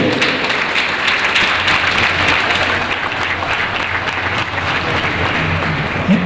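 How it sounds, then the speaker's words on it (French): Young audience at a digital start-up support launch in Ouagadougou, Burkina Faso, breaking into loud sustained applause, a dense steady clatter of many hands for several seconds. "je veux vous entendre à travers des applaudissements bienvenus"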